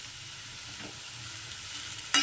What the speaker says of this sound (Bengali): এবার রসুনের সঙ্গে সব ভালো করে মিশিয়ে নেবো